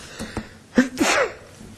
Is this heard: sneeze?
yes